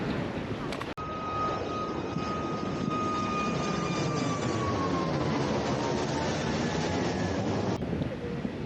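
An airplane passes low over Mai Khao beach in Phuket, a loud continuous jet roar with a whine that slowly falls in pitch as it goes by.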